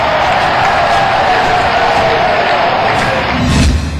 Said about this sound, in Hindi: खूब तालियां बजी।